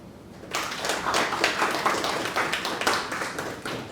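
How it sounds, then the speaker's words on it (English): An audience claps after a presentation at a private education event, dense, close applause that starts suddenly and holds steady. "I think he deserves another round of applause."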